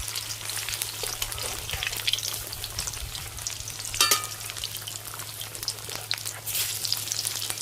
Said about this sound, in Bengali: কত বড় বড় হয়েছে দেখুন বন্ধুরা, চাল কুমড়ো পকেট ফ্রাই।